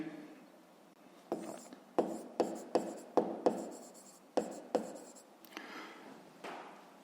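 Pen strokes scratch on paper as math figures are written by hand, a run of about a dozen short, sharp scribbles in quick irregular bursts over a quiet room.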